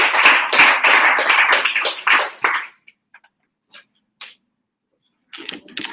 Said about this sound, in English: let's give a round of applause for Brenner for that